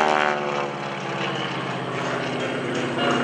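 A vintage aerobatic airplane, over 70 years old, rolls during an airshow at Greenwood Lake with a loud, steady propeller-engine drone that holds a sustained, even roar with slight swells.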